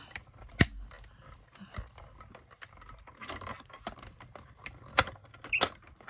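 A Stampin' Up mini die-cutting machine cranks paper through, with soft ticking, creaking mechanism sounds and scattered sharp clicks and knocks, fairly quiet and close, irregular rather than rhythmic.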